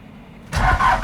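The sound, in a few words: old Ford truck diesel engine starting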